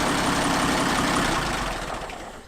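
An old abandoned tractor engine idles steadily with a low, continuous rumble that stays loud and close, then eases off a little toward the end, with no talking.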